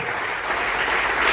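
A church congregation applauds together in steady, dense clapping that swells slightly toward the end, with no voices over it.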